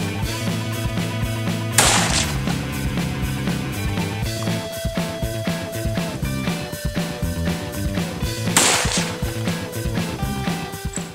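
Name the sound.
Ruger No. 1 rifle shot on bipod, 450-400 round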